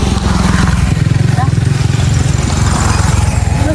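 A motorbike engine runs steadily with a low, even rumble throughout, while people talk over it.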